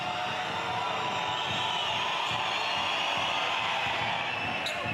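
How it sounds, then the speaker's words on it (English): Basketball crowd in an arena in Valdivia, Chile, during a Chile versus Colombia Americup qualifier, a dense steady roar of many voices that holds loud and continuous throughout, with no single voice standing out. "the crowd are really starting to pick up the decibels"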